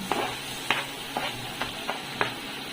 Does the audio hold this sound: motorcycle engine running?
no